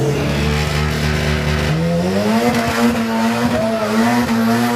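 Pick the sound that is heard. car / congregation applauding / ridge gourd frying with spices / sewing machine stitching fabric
car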